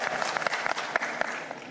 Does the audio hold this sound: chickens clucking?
no